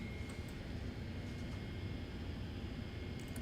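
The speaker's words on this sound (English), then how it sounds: "APU is running." An airliner's auxiliary power unit running in Microsoft Flight Simulator, a faint steady broadband whoosh with a thin constant whine, unchanging throughout and heard alone.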